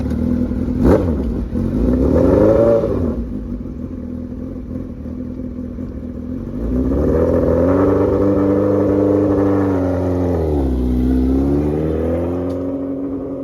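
A Suzuki Hayabusa 1300 motorcycle engine revs loudly and close during a test ride, rising and falling in several surges with a short quieter idle between them.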